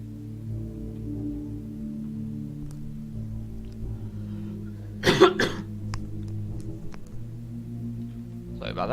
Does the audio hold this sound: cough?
yes